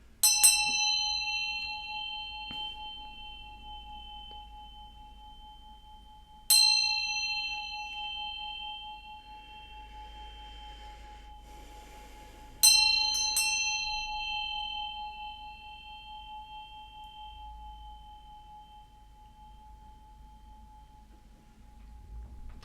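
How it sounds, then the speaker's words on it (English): A single bell is struck three times at spaced intervals. Each strike gives a bright, clear ring that lingers and fades slowly in an otherwise quiet room. "I'm going to ring this bell to bring in some good vibes"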